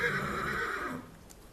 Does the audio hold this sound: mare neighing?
yes